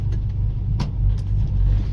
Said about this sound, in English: I'll bring you live here for a second just to show you how this transmission shifts